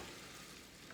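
Pearl onions brown in a hot pan with a steady, dense sizzle, a close and constant frying hiss with no talking over it.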